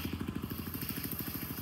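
A Yamaha NMAX scooter bored to 215cc and fitted with an Aerox cylinder head idles up close with a rapid, even putter, a faint lifter tick and slight exhaust leak.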